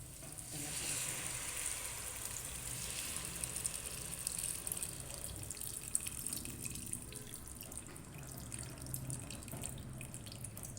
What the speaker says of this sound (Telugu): మనకి సరిపడా వాటర్ పోయాలండి